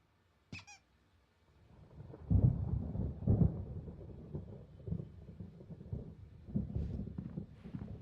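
Thunder from a storm in the video game Alan Wake Remastered: after a short high squeak, a deep rolling rumble builds and lingers, loud and heavy, with further swells of low crackling thunder.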